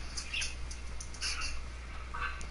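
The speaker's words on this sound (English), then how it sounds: "My birds are trying to escape" Birds in a video game give scattered high squawks and chirps, a few faint calls repeating over a steady low hum.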